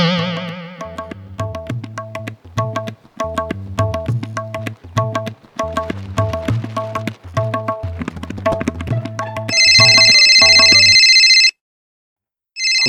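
A telephone rings during a call in a comedy scene, a repeating electronic melodic ringtone that plays loud and close for most of the span, then shifts to a brighter, higher sustained tone before cutting off.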